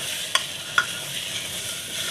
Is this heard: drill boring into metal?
no